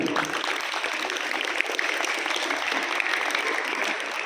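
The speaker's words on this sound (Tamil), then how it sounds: "இந்த ஏற்பாட்டுக்குள்ள உள்ள எல்லாருக்கும் ஒரு மிகச்சிறந்த கைத்தட்டு கொடுங்க" Steady audience applause fills a scout uniform-movement camp gathering, a continuous dense patter of many hands at moderate loudness with no break and no voices on top.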